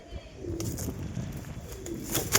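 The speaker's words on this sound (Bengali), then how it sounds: "এই হচ্ছে এক জোড়া কবুতর, ম্যাটাজ মাদি আর ম্যাটরাজ নর" A pair of pigeons, a Matraj male and female, coo softly nearby in low rolling notes, with a few sharp clicks and shuffles around them and no speech.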